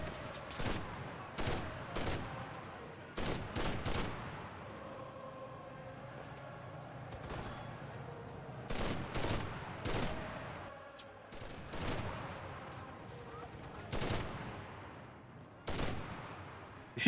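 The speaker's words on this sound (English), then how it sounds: "Machine guns are still deadly as fuck, though. Machine guns still drop people like crazy." Machine gun fire in the World War II shooter Enlisted, Battle of Berlin mode: repeated short bursts of automatic fire, some near and some more distant, over a steady low rumble of battle ambience.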